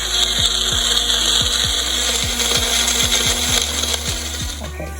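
A blender whirs continuously, mixing green syrup with water, its motor giving a loud, steady humming drone with a rhythmic pulsing whine throughout.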